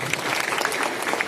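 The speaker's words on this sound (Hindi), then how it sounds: "ईश्वर वंदना लेकर आए हैं हमारे सुधीर सर के लिए जोरदार ताली" A brief burst of loud, dense clapping from students at a school morning assembly, applauding a teacher.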